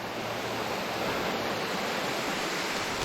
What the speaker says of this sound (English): Another little set of waterfalls.